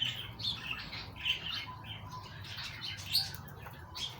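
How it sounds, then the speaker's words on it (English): Birds chirping and squawking around a backyard aviary, with scattered bright calls and tweets at moderate distance over a low outdoor rumble. "Why do birds fly out of an aviary?"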